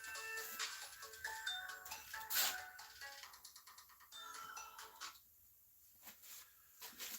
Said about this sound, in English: that's my shop phone